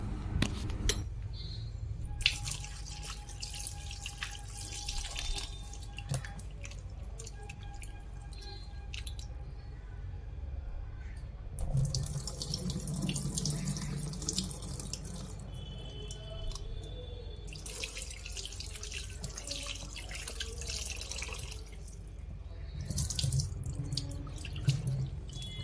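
Salted fish rubbed and rinsed under running tap water, a continuous splashing stream with drips, squelches and clinks of a metal utensil, pausing and resuming in bursts with no talking.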